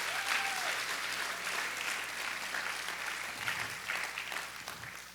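A church congregation applauding steadily throughout, dense and sustained, fading slightly toward the end.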